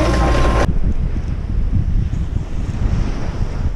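Beach surf and gusting wind at Aquatic Park in San Francisco at night, a loud, steady wash of rumbling noise with heavy wind buffeting on the microphone after a brief louder opening burst.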